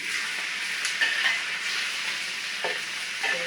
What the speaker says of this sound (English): I'm going to add my peppers and the mushrooms in